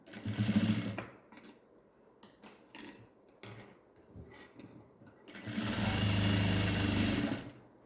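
A sewing machine stitches a newborn baby gown in two bursts, a short run at the start and a longer steady whirring run near the end, with quiet handling clicks and rustles between.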